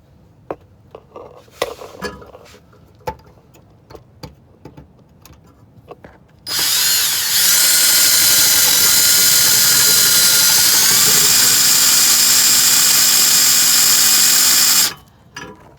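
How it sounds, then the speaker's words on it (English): A power drill boring into a rivet on a 1994–95 Mustang fuel line bracket, sounding as a loud, steady high-pitched whine for about eight seconds after scattered light handling clicks, then stopping abruptly. "You can use a drill to drill into the rivet and then just pop it out."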